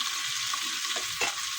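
Fish frying in a pan gives a steady, close sizzle throughout, with a soft scrape of stirring partway through and no voices.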